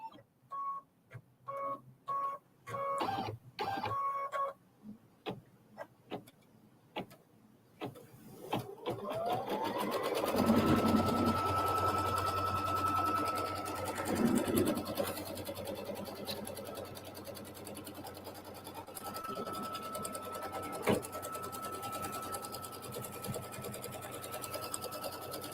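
A sewing machine stitches out small quilt squares, first in short start-stop bursts of stitching, then in a longer continuous whirring run that stays fairly quiet and close.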